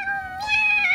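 A cat meows in the Roblox video game: a single drawn-out, high tonal meow that rises in pitch partway through, close and clear with no talking over it.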